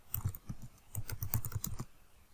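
Fingers type on a computer keyboard in quick, close bursts of light key clicks, filling in a description field in a project-management database, with a short pause mid-way and a quiet tail at the end.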